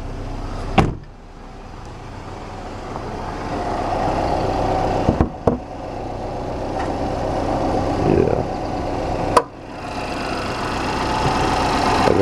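A 2010 Chevy Equinox LS AWD with its side window being powered down: a steady mechanical hum runs for several seconds inside the car cabin, punctuated by a few sharp clicks and knocks.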